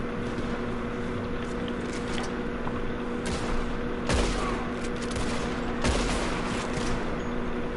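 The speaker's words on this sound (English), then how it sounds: "now they're shooting at them" Gunfire in a Red Dead Redemption 2 gunfight: a steady crackle of distant shots over a constant hum, with a couple of louder, sharper reports standing out near the middle and toward the end.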